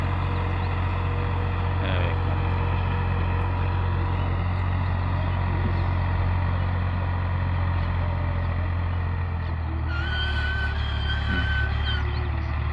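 A tractor pulling a wide 10-foot implement works across a field of soft, ordinary soil after sowing, its engine a steady, close, low droning rumble that holds throughout with a slight shift near the end.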